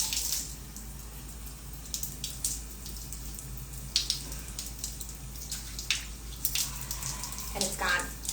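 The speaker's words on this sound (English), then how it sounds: "I just want you to see how easily this rinses for people who are used to fighting at the sink to rinse their face" Running sink water rinses face cleanser off, a faint steady trickle with soft splashes and drips as hands scoop water close by.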